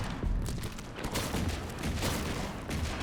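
A homing intercontinental missile weapon fires at demons in the video game Shotgun Cop Man, producing a dense run of rapid, overlapping blasts and booms with a few louder hits.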